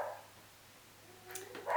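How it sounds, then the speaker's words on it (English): Dogs barking indoors in a home, a couple of short yips and barks near the end after a quiet stretch, moderately loud with no talking. "now that the dogs are done barking"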